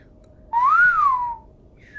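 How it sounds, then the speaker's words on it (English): A single sustained human whistle, a rising then falling note lasting about a second, clear and close over a quiet background. "I can't whistle very good."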